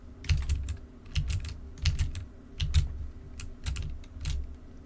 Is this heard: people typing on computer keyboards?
yes